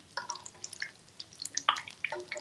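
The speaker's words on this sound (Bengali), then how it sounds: "তারপরে এইটাতে একটু তেল উপরে দিয়ে দিচ্ছি।" Oil drizzled over fish cutlets frying in a pan gives scattered small wet pops and drips, soft and close, with an irregular crackle and no speech.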